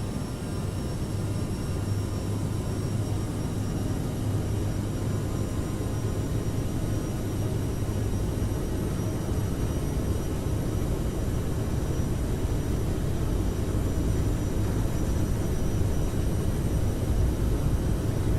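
Simulated jet airliner engines spooling up to takeoff thrust in Microsoft Flight Simulator, a steady, loud, unbroken roar with a low hum running throughout.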